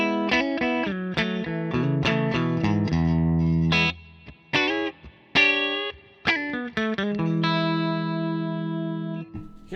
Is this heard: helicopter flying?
no